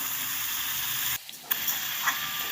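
Soft sizzling from a frying pan as radish and other vegetables are stirred, with a brief hush partway through before the crackle resumes.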